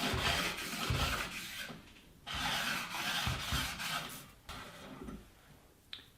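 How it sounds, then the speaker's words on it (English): Steel jointer or planer knife rubbed back and forth on a strip of 220 or 320 grit sandpaper, giving close, repeated raspy strokes with short pauses between them and no talking. "take your jointer or planer blades, maybe run them over the 220 or 320 on the back just to make sure you don't have any massive burr"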